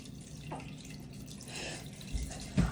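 Homemade chicken stock is poured through a tea towel strainer into a large soup cup, giving soft trickling and dripping with a couple of louder splashes near the end, quiet and close, with no talking.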